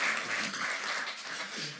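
Audience at a lecture applauding, a dense, fairly loud wash of clapping that holds steady for about two seconds with no speech over it.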